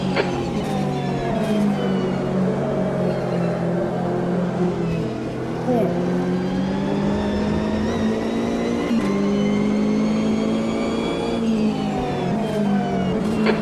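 Race car engines from the Automobilista 2 racing game roar steadily, rising and falling through gear shifts as other cars run close alongside, with a brief dip in intensity midway and a spotter's voice talking over the engine noise.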